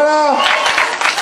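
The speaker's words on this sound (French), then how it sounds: "Allez, applaudissez bien fort." Audience at a cosplay contest during a convention breaks into applause, a dense wash of clapping that swells after a brief voice at the start and carries on steadily, fairly loud and close.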